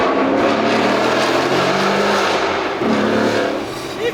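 A 2019 Mustang GT engine revs loudly inside a tunnel, several deep throttle blips and downshift revs echoing off the walls, close and dominant with no speech.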